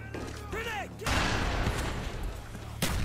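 Rapid submachine gun fire from an MP5K in the Call of Duty Black Ops video game, a loud dense burst starting after a voice and running for about two seconds before a further sharp shot.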